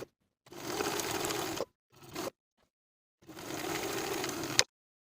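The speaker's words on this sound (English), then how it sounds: "Now I'll sew the buttonholes in place." A sewing machine stitches buttonholes on a hoodie, two long close bursts of fast needle chatter separated by a short stitch and pauses of silence, with no voices.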